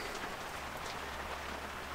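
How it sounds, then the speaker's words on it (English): Dense, steady hiss of heavy rain pouring down, a constant wash of drops with no letup and no voices. "It is teeming down the water outside. Rain."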